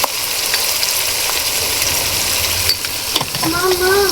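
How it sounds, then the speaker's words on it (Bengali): Spices and turmeric being stirred in a hot frying pan for a fish bhuna: a steady, close sizzle with occasional scraping of the spoon and a few faint tonal squeaks near the end. "এখন এগুলোকে সুন্দর করে নেড়ে নেওয়া হবে।"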